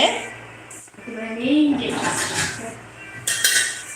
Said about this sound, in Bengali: একটা ঢাকনা দিয়ে কিন্তু এটাকে ঢেকে দিতে হবে